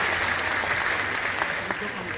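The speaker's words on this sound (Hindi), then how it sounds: "तो तालियां बजा दीजिए।" Dense, steady applause from a large audience at a public gathering for a chief minister's pilgrimage train scheme, filling the whole moment at moderate loudness without a clear break.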